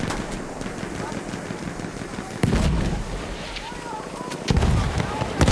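Battlefield 1 battle din with dense gunfire and explosions, including bursts that fit an enemy machine gun, loud and continuous with a sharp jump in intensity midway and again near the end, under voices calling out.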